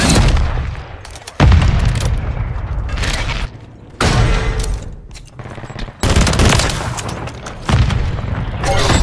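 Loud, close video game gunfire comes in rapid bursts of automatic shots and booming blasts, broken by brief pauses, with voices talking over it now and then.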